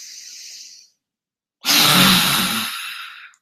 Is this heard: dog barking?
no